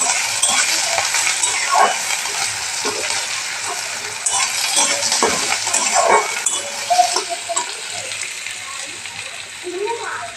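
Onion and green chili fry in hot oil as a spoon stirs them, with a steady, close sizzle and scattered scraping and clinking against the pan.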